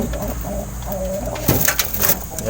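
Pet pigeons coo softly and steadily at close range, a low repeated cooing with a few louder overlapping calls partway through and no voices.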